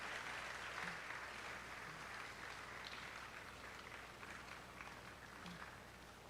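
Continuous clapping from an audience at a university staff awards day as an awardee comes forward, a soft, even spatter of many hands heard from a distance and fading slightly near the end.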